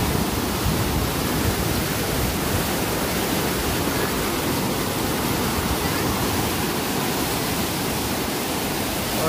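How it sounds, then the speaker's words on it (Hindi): Water pours into a boat lock chamber during a Panama Canal-style crossing, a loud, steady broadband rush that holds at the same level for the whole stretch. "ये पानी भर रहा"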